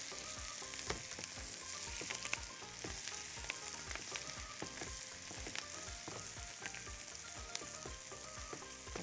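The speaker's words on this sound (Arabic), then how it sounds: "ونبتدي نقلب البصل بتاعنا. شايفين اللون بتاعه بدا اهو يتكرمل مع معلقه السكر" Onions caramelizing with a spoonful of sugar sizzle steadily in a hot pan. Stirring adds frequent scraping clicks throughout, and the sizzle stays close and even with no talk.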